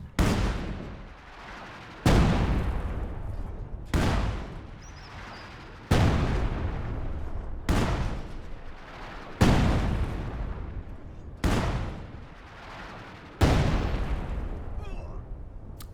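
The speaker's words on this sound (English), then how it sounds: "So testing the light artillery barrage again, but this time close to max range on 3 squads." Light artillery barrage in a World War II strategy game, close to maximum range on infantry squads: eight loud, evenly spaced booming explosions roughly every two seconds, each decaying into a rumbling tail.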